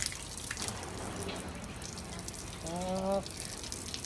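Water spraying from a hose onto the windshield of a Corolla AE101, a faint steady hiss and patter in the background with a brief tonal squeak near the end.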